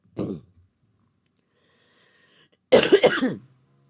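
Two separate coughs with a silent gap between them: a short, sharp one first, then a longer, harsher rasping cough close to the listener.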